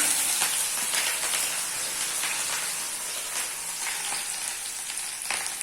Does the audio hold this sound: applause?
no